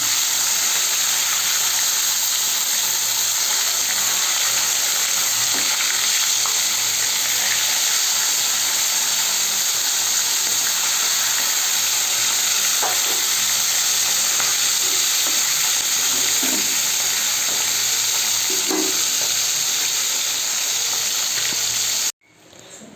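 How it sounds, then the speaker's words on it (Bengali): Fish rubbed with salt and turmeric fries in a pan, giving a loud, steady sizzle and crackle that runs unbroken for over twenty seconds with occasional pops, then cuts off abruptly at the end. "একদিকে মাছ ভাজা হচ্ছে"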